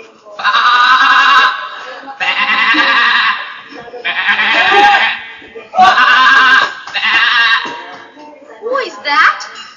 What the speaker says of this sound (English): it's that cutie pie black sheep